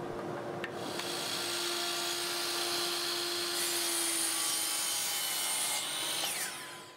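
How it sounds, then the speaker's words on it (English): A miter saw cuts 45-degree angles in wooden support arms for a ski waxing stand, with the motor spinning up to a high steady whine, the blade biting and rasping through the wood, then spinning down, heard up close and alone. "While I was at the miter saw, I also cut 45-degree angles on the support arms."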